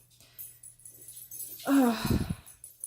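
Dogs scuffle and fight underfoot, giving a sudden close whine and a few short yelping, whimpering sounds after a quiet start, with a low hum in the background.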